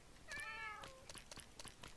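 A single cat meows in a Minecraft creeper-farm build, a short faint cry near the start, followed by soft clicking and tapping sounds.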